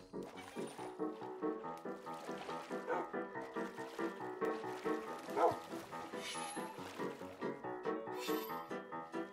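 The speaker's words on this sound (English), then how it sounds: "the dogs are out of the boat." Dogs bark and yip repeatedly in the Minecraft video game, the yelps coming in quick overlapping bursts over a busy background of game sound, fairly faint overall.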